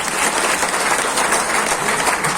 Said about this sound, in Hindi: तो एक बार दोबारा से ताली बजाओ फिर शुरू करो।